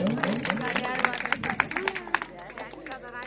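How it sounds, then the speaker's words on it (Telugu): Audience at a Christmas dance performance clapping, brisk irregular claps mixed with crowd chatter and voices, close and lively over a few seconds. "గట్టిగా చప్పట్లు కొడదాం."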